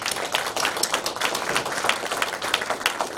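A congregation at a university celebration worship service breaks into dense, sustained applause, many hands clapping steadily throughout.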